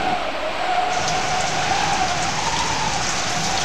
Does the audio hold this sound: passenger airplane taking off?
no